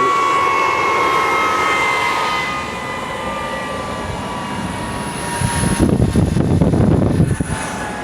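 A 1960s turbojet engine running steadily after light-off, a loud continuous roar with a high whine on top that swells into a rougher, heavier rumble toward the end.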